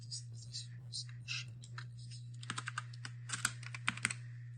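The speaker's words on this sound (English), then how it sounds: "in the search bar type Minecraft" A computer keyboard is typed on at close range, first with scattered soft keystrokes and then a quicker run of crisp clicks, all over a steady low electrical hum; a faint voice is also present.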